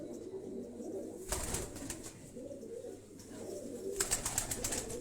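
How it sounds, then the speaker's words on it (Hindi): Pigeons kept at a home rooftop loft, including capped and high-flying breeds, coo in low soft repeated phrases under background noise, with a brief burst of other sound midway and faint chirps toward the end. "ये हमारे घर के कबूतर।"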